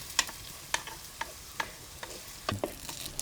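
Chopped ginger, garlic, green chilli and onion fry for a fish curry, soft sizzling broken by about eight sharp scraping stirs of a spoon against the pan, close and fairly quiet.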